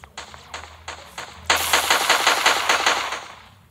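Gunfire in the KoGaMa video game: a few evenly spaced loud shots, then a rapid sustained automatic burst that fades out at the end.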